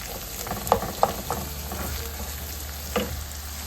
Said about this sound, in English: we're gonna let that cook up, let the onion soften